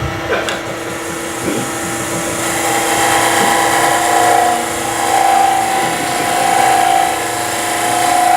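A wood turning tool hollows a vessel on a spinning lathe, giving a continuous whirring, scraping drone with a steady high whine that swells and eases slightly, close and loud.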